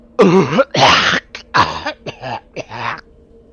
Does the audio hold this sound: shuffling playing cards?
no